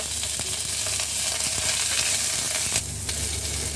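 Spices sautéing in hot oil for beef afritada, a steady loud sizzle running throughout with occasional stirring scrapes and no voices.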